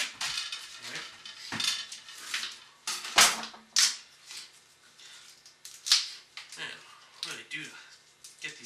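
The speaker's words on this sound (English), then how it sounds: "Let's cut up our sausage." Knife and fork scraping and clacking on a plate while sausage is cut up, a series of sharp clinks and taps at irregular intervals under people talking nearby.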